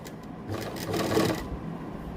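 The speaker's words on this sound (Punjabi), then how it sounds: "ਤੁਸੀਂ ਖਾਲੀ ਮਸ਼ੀਨ ਜ਼ਰੂਰ ਚਲਾਉਣੀ ਹੈ ਜੀ ਧਾਗਾ ਵਿੱਚ ਪਾ ਕੇ" A sewing machine running close by as it stitches pleats into a ladies' kameez, giving a short, quiet burst of rapid mechanical whirring and clatter that swells briefly in the middle.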